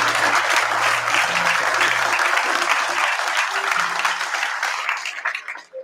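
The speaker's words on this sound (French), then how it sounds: "Est-ce qu'on peut encore acclamer le Seigneur pour eux?" A congregation at a revival convention claps and cheers loudly in praise, a dense sustained roar of applause with scattered shouts that fades near the end.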